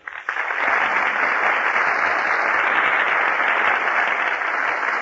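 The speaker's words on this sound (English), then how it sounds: "That applause you hear, ladies and gentlemen, is for Alice Faye, Herbert Marshall, and Hu" Studio audience applause on a 1935 radio show, a full, even roar of clapping that starts abruptly and holds steady throughout, with a dated, band-limited broadcast quality.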